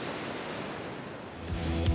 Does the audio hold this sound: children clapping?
no